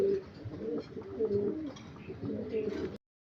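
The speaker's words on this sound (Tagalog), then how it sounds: "Papakita ko sa inyo yung dalawang anak nila na sprinter natin na ibon." Racing pigeons coo continuously in low, throaty murmurs, several birds overlapping close by with a steady rolling rhythm.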